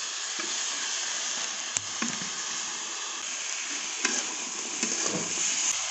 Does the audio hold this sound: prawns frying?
yes